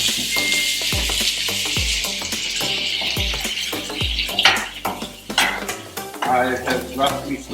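Onions and tomatoes sauté in a pan for a potato and pea masala, a bright steady sizzle punctuated by rhythmic spatula knocks and scrapes against the metal, close and loud, without speech.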